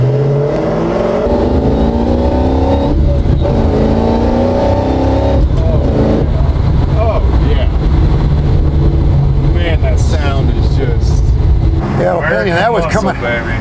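A 1969 Dodge Charger restomod with a Hellcat engine roars hard as it accelerates out of second gear, its loud, continuous engine note rising in pitch with tire noise, heard from inside the car while people talk over it.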